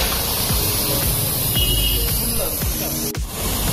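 A car tyre on a Nissan Micra is filled with nitrogen to 34 pressure, giving a loud, continuous hiss of gas that runs steadily close up, with a brief break near the end.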